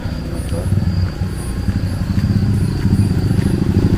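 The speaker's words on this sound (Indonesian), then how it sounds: "Oh, ada motor Pak." A motorcycle engine drones nearby, its rumble swelling slightly as it passes, with faint high chirps in the background.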